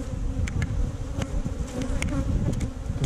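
Agitated honeybees swarm around an opened hive during a beekeeping inspection, a dense loud buzzing drone close by with individual bees zipping past, and no voices.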